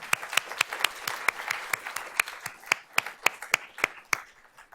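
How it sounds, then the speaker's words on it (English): An audience at a school board of trustees meeting applauds student performers: steady, brisk clapping from a moderate crowd, with sharp individual claps standing out throughout, fading slightly toward the end. "let's give them a round of applause for you"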